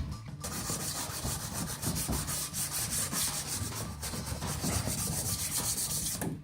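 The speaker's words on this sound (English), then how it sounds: "we've got everything all smoothed out with the coarse sandpaper." Coarse sandpaper scrubs a gelcoat repair in a loud, continuous, gritty rubbing that stays close and steady throughout, with quick strokes blending together and no voices.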